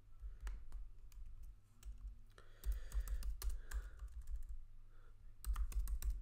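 Computer keyboard typing in irregular bursts of key clicks, with a low steady hum underneath and several short pauses between runs of keystrokes.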